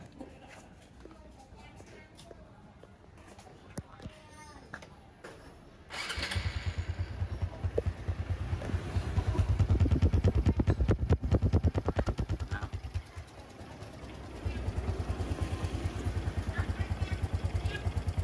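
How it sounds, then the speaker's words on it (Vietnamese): A 2011 Honda Wave 125i motorcycle, first quiet with handling noises, then the engine catches and runs with a close, steady putter that rises slightly and settles into a smooth idle, with a voice talking over it. "Máy rất là êm nha mọi người."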